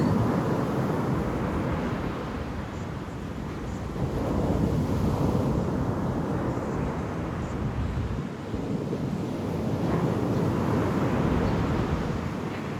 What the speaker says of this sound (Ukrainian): Слухайте море.